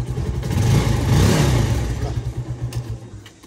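A second-hand motorcycle engine revs up loud and close, swelling into a sustained roar before dropping back to a lumpy, pulsing idle.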